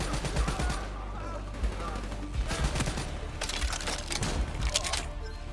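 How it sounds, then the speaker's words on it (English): Gunfire in a Call of Duty: Black Ops III campaign battle, clusters of rapid automatic shots in several bursts, loud and close, with indistinct voices beneath the shooting. "We're under fire!"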